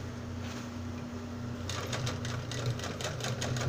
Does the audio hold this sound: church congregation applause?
no